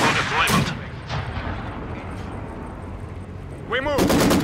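Battlefield gunfire in the video game Company of Heroes 2 near Stalingrad, with loud sharp shots and bursts over a dense rumble of combat, and a game voice calling out partway through.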